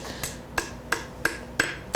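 Cross-peen hammer blows on sheet metal while anticlasting a shell, six sharp ringing strikes spaced evenly about a third of a second apart, close and clear with no talking.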